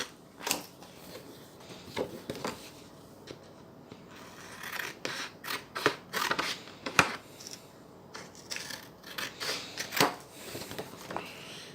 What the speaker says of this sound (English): I like to cut close as possible, but not too close.